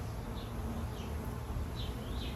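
Honeybees hum densely around an open hive during an inspection, a faint, continuous buzzing swarm with a few individual bees whining past close by.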